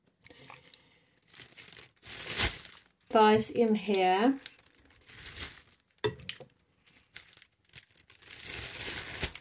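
A plastic bag crinkles and rustles in short bursts as raw chicken thighs are put into it in a kitchen, the crisp crackles close by and interleaved with a person talking.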